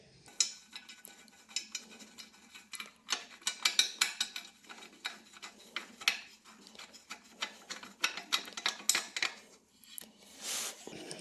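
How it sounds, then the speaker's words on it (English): Small metal bolts being threaded in by hand on a Ricochet skid plate fitted to a Kawasaki KLX230S, with clustered light clicks, taps and scrapes of metal on metal, close and fairly quiet, without talking. "Get those lined up and just get these bolts started."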